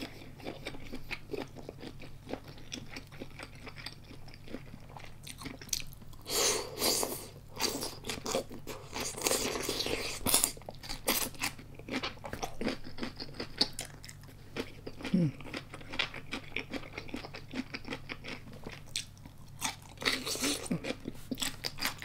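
Crunchy chewing of a Thai green papaya salad, bursts of crisp bites and mastication close to the mic, recurring irregularly over a steady low hum.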